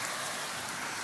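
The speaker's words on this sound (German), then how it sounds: "schüttet wie die Sau" Heavy rain pours down in a dense, continuous hiss with no breaks, steady and loud for the whole short stretch.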